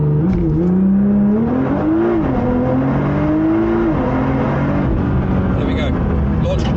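A Nissan GT-R launches under launch control, its engine and drivetrain rising in a loud, sustained whine that climbs in pitch through the gears, heard close from inside the car.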